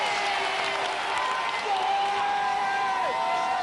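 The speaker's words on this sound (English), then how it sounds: "Let's hear it for Andy" A studio crowd at a 1996 Gladiators UK heat applauds and cheers for a contestant, a steady loud wash of clapping and whoops that fills the whole stretch, with a host's voice carrying faintly over it.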